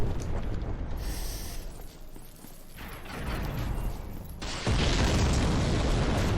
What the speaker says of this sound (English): He's throwing bombs at me